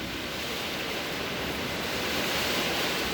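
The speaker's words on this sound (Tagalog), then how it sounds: "Ang aming bubong sa taas tumutunog dahil sa hangin." Steady, loud roar of typhoon wind buffeting a house roof, a continuous broadband rush that swells slightly toward the end, with no talking.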